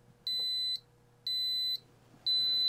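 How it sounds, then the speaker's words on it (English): Three steady high-pitched electronic beeps in an even on-off rhythm from the buzzer of an XH-M611 lithium battery under-voltage protection module, each about half a second long, with a faint hum underneath. "the buzzer will also be triggered"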